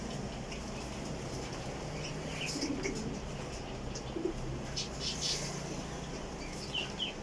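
Pigeons coo in low, faint, intermittent murmurs over a steady background hum, with scattered small chirps and rustles between the calls.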